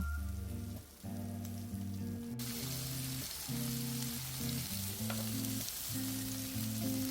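Meat and kimchi sizzle steadily on a metal grill with a fluorine-resin 3D coating, a dense continuous frying hiss with a low tonal hum underneath, loud and close throughout with no talking.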